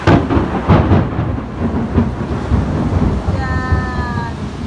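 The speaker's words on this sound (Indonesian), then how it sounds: "Ini hujan." Steady heavy rain roars close by with low rumbling thunder, and a cat meows briefly near the end.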